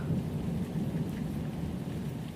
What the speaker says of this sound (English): The rain grows lighter still now, more a mist than a shower. Thunder is almost gone, only the occasional whisper on the horizon.